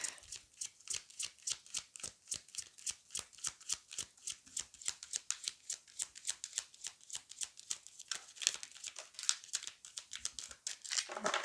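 A tarot card deck being shuffled by hand, with crisp, rapid riffling and flicking of cards in a steady close-up rhythm that continues throughout, fairly quiet and without talk.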